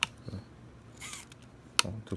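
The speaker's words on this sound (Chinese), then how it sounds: "这快门很顺" A 1957 Olympus Wide-E mechanical film camera with a metal body fires its shutter in a few crisp, quiet clicks and short mechanical rasps, heard close up in a quiet room.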